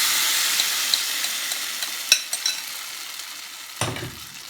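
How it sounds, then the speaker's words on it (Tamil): Watermelon chocolate halwa is stirred in a pan on a slow flame. A soft, steady sizzle runs under a few light scraping clicks from the spoon. "ஸ்லோ ஃப்ளேமில் வச்சு நல்லா கிண்டிக்கிட்டே இருக்கணும்"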